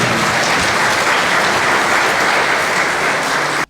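Loud, dense audience applause at a televised corporate awards evening in Cameroon's Western region, continuous clapping from a large crowd that stops sharply at the very end.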